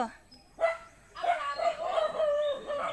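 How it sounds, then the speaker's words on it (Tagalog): A dog barks a few times at moderate distance, with a voice speaking briefly nearby. "Ayan, sumagot na yung aso."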